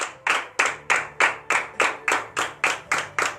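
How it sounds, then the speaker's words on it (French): A worship congregation at a morning prayer service in Benin claps hard in a steady, even beat, about three claps a second, loud and close, with no talk heard. "je vous demande encore d'applaudir très très fort ce grand Dieu"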